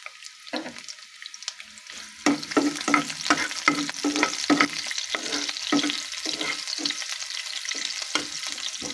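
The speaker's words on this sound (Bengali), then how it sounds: "পেঁয়াজটা লাল করে নেব" Onions sizzling in a pan, stirred steadily with a rapid run of close, rhythmic scraping strokes over a continuous fry.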